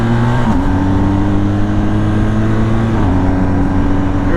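A 2020 BMW R1250GS motorcycle engine pulling hard under acceleration, a steady close droning tone that drops briefly at a gearshift and climbs again, with no talking.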